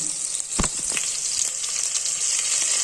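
Oil sizzling in a pan while cooking avrekalu usli, a continuous bright hiss with a couple of low knocks early on, fairly quiet and free of speech.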